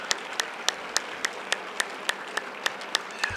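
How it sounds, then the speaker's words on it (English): A church congregation claps hands in steady unison, about a dozen sharp, evenly spaced claps over a soft background hum, no talking. "Clap your hands."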